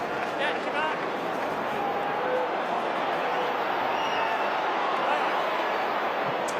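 Restless stadium crowd at an AFL match between Fremantle Dockers and Port Adelaide keeps up a steady, dense murmur and roar throughout, with a commentator talking over it.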